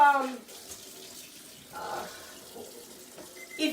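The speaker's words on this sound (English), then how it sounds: "I need to wash my hand, it's full of oil." A kitchen tap runs into the sink while oily hands are washed, a steady splash swelling and easing with hand movement, fairly close, with a voice speaking briefly near the start.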